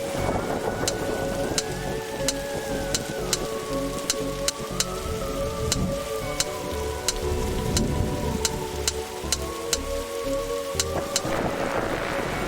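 Steady rain pours in a stormy scene of the detective adventure game The Darkside Detective, with a low rumble of thunder and a sustained tone beneath, constant and fairly close throughout.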